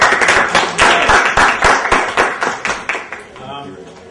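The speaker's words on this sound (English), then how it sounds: "Give a round of applause, guys" Audience clapping for a presenter at a business training seminar, a fairly loud burst of scattered claps that thins and fades over a few seconds, with some voices mixed in.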